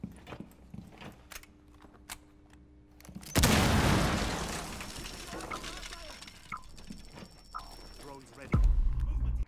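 A breach charge detonating in Rainbow Six Siege: quiet clicks and a low hum, then a sudden loud blast with a long rumbling tail, another heavy boom near the end, with voices heard nearby.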